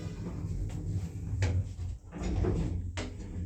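Orona lift doors in a Richmond town centre shopping area sliding shut, with a few soft thuds and rolling movements over a steady low hum of the lift and surroundings.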